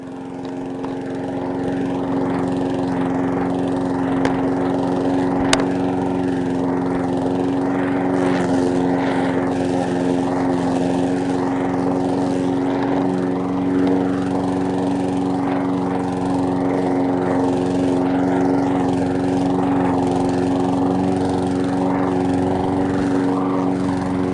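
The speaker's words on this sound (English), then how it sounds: "There we go, it's mowing now." A lawn mower runs continuously at close range, its engine droning loud and steady throughout with no voices.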